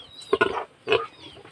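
Piglets offered for sale give two short, harsh squealing grunts about half a second apart, close and fairly loud against a quiet background.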